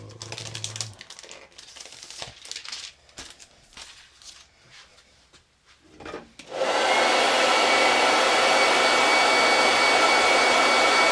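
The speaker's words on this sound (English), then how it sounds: "I'm basically heating it up really quick using my hot setting of my hair dryer" Scattered tapping and handling noises give way to a hair dryer on its hot setting, a loud, steady blowing roar that switches on partway through and runs unbroken to the end.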